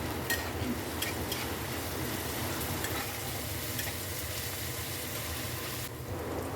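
Onion, garlic paste and green chilli paste fry in a pan for a Bengali stuffed potato curry, giving a steady, even sizzle with faint stirring scrapes throughout, close and with no voices.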